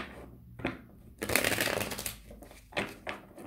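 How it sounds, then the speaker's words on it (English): Tarot cards being shuffled in several bursts, crisp riffling and fluttering sounds close by, with short pauses between shuffles and no talking. "Two more shuffles."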